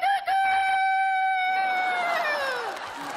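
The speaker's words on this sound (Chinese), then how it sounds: "那怎么我听到鸡叫了？" A rooster crows once in a long, drawn-out cock-a-doodle-doo that trails off at the end, loud and near, with no speech over it.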